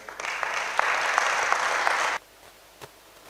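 A church congregation applauding together, a burst of dense clapping lasting about two seconds with a few sharper claps, then cutting off abruptly into quiet room tone.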